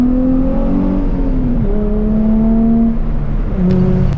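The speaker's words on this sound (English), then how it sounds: "Put your clutch in, rev the car up, dump that clutch, and slide." A Nissan 350Z drift car holds a loud, sustained engine note, revving high then dipping and climbing again as it slides, close and unbroken for several seconds with no talking.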